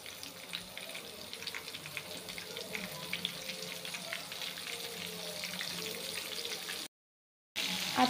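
Soybean chunks frying in hot oil over a low flame, a continuous loud hiss and crackle that holds steady, then cuts out briefly before resuming.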